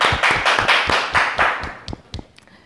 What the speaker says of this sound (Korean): 내가 신서울 목사님께 박수를 한번 보내드리겠습니다